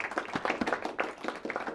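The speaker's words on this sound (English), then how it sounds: "Give our judges a round of applause for the hard work they do." Short round of applause from a modest audience for the judges at an academic quiz competition, distinct individual claps audible in an uneven patter, close and fairly loud.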